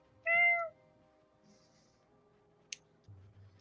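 A single short meow, voiced by a person imitating a cat during a Call of the Netherdeep tabletop game session, clear and close, followed by a faint click and a low thud.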